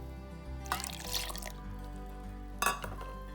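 Leftover milk is poured into a blender jar for an avocado milkshake, heard as two short splashing pours about two seconds apart, close and moderately quiet over a low steady hum.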